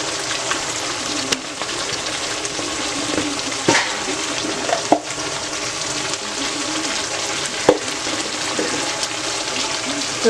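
Cumin and coriander powder sauté in a pan with a steady, close sizzle and a few soft clicks of stirring, with no talk over it.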